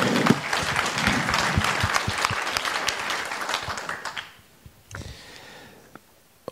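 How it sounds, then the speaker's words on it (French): Audience at a public talk gives a burst of dense applause that thins out after about four seconds into a few scattered claps before fading. "On peut applaudir, oui."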